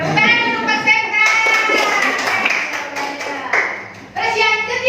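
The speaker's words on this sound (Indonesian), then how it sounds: "Tepuk tangan untuk Mas Septa." An audience at a school positive-culture dissemination session claps for Mas Septa; steady, fairly loud clapping runs throughout, mixed with overlapping voices and cheers.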